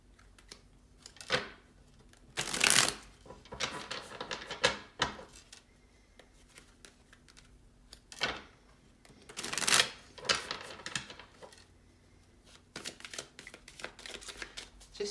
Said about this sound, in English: just going to get all the cards out first